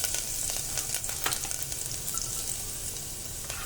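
Garlic sizzling in hot oil with curry leaves while cooking tuver dal khichdi, a steady close crackling fry with scattered sharper pops.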